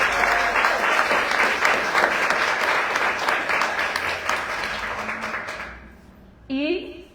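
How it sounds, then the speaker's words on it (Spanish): Strong audience applause at a public talk on the rights of nature in Santa Cruz. Dense clapping from a sizable crowd fades out near the end, then a voice begins speaking. "Un aplauso muy fuerte,"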